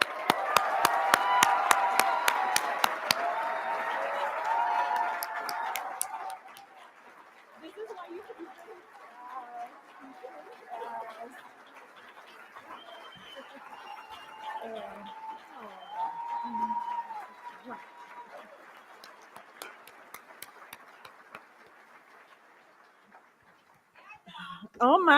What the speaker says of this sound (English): So please give a huge round of applause for Centro Hispano's executive director, Karen Menendez Coller